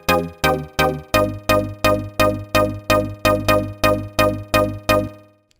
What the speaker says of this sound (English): With delay, it sounds like this.